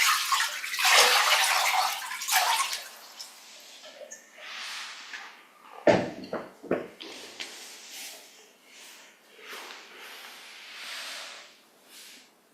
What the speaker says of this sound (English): by watering our feet with a jug of water